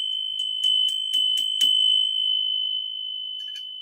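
A small bell is struck at the start of a tarot reading, several bright ringing strikes in quick succession with a sustained high tone that lingers and fades, clear and close with no talking.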